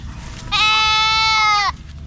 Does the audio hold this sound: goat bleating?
yes